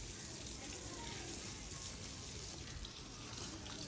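Water poured and splashing steadily while clothes are washed with detergent and a scrub brush, a continuous faint gushing with a voice faintly in the background.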